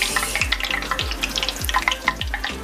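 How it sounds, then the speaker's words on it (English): Beaver tail pastry dough fries in hot oil, a steady bubbling sizzle with regular soft thumps and clatter from nearby handling, close and moderately loud with no voices. "So we're just gonna let it fry."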